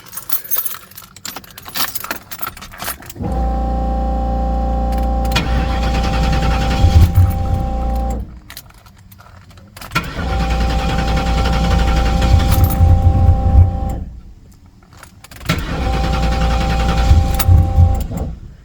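A turbocharged Lincoln Town Car running E85 cranks and cold-starts roughly, in three loud bursts of rumbling engine with a steady tone, the last two cutting out and dropping away between attempts.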